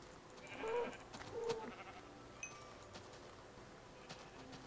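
Game sheep bleat twice in short, nasal calls close by, then fade into a quiet ambient background with a few faint clicks and ticks.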